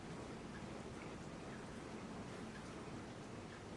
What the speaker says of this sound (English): Yeah, it's raining out there.